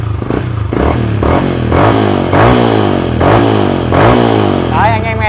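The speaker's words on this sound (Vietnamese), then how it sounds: "Khi mình nẹp lên này, nẹp căng cho anh em nhá, nẹp căng này." A Yamaha Exciter 155 VVA motorcycle with an aftermarket exhaust is revved repeatedly, each throttle blip rising and falling in pitch with a throaty exhaust, loud and close.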